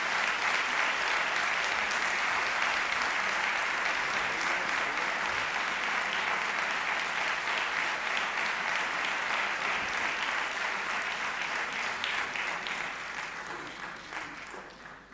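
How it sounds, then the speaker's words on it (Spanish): A festival audience in Buñol applauds the Orfeos choir of the Sociedad Musical y Artística, with dense, sustained clapping that holds loud and steady for a long stretch before fading away at the end. "un fuerte aplauso al coro Orfeos de la Sociedad Musical y Artística de Buñol"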